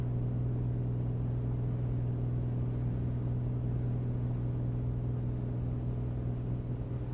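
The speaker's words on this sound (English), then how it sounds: "We're going to pull it back till we hear a little bobble in the engine." A Piper Comanche aircraft engine runs with its mixture leaned, giving a constant deep drone with strong low tones, steady and unbroken from inside the cabin.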